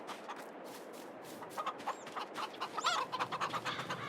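Chickens clucking in a coop in the video game Farming Simulator 22, a quiet cluster of soft, repeated clucks and short squawks close by, continuing throughout with no talking.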